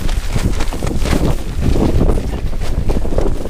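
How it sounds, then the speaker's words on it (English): Strong wind buffets the microphone in a steady, loud roar with gusty low rumbling throughout, no voices. "So we've got the Acto set up, and yeah, it's quite windy."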